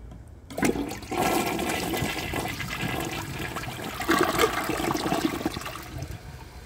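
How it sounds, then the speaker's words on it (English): A 1995 Mansfield Alto toilet, using its original flush valve, flushes with a loud rush of water that holds steady for several seconds and ends in a strong siphon, close to the microphone with no talk. "So let's give this a flush and see how it does on tests."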